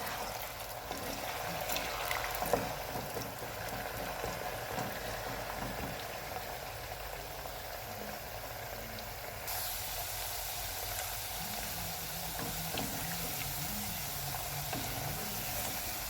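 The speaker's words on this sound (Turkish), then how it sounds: "küp küp doğradığımız patateslerimizi önce yağda biraz kızartalım" Cubed potatoes, three medium ones, frying in hot oil for a shepherd's lamb stew, with a steady close bubbling sizzle running unbroken throughout and no voices.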